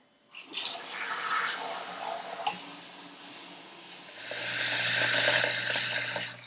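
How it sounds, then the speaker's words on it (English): Cold tap water gushes into a steaming pot, a splashy rush that shifts to a fuller, steadier filling sound as the vessel fills. "So just fill it with cold tap water."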